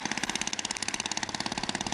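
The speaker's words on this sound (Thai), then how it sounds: "ที่เรา ได้ยินเสียงเรืออยู่นี่รู้สึกว่าจะเป็นเรือที่กำลังเข้าฝั่งนะฮะ" A boat engine, likely a longtail boat's, chugs as the boat comes in toward a beach shore. The steady, rapid throbbing pulse is fairly close and heard alone, with no voices.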